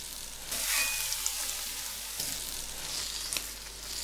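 Food sizzles steadily on the griddle plate of a Britannia range cooker, a soft, continuous frying hiss close by with a brief rise near the start and no talking.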